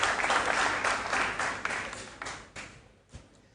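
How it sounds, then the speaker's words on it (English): Applause for contestants at a Sharks quiz competition: a dense round of clapping from an audience that swells at the start, then thins and fades to scattered claps, with no talking. "A round of applause, ladies and gentlemen, to the contestants"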